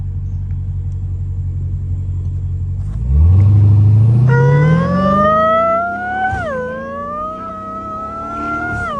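A Dodge Hellcat in city traffic gives a deep, heavy idle rumble for a few seconds, then revs hard into a loud, climbing roar that settles into a steady, whining drive.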